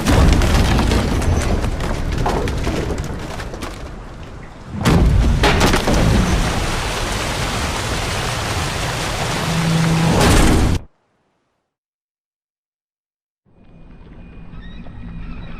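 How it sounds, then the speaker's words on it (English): Storm at sea in The Witcher 3, a dense roar of wind, rain and heavy booming thunder at loud level, with sharp cracks near the middle, then a sudden silence before quieter ambience returns; no speech heard. "Didn't bargain for no storm."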